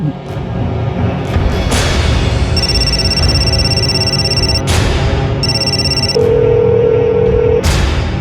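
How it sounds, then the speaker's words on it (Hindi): An electronic phone ringtone sounds in repeated bursts over a loud, steady background hum, with a lower tone joining near the end. "फोन क्यों नहीं उठा रहे?"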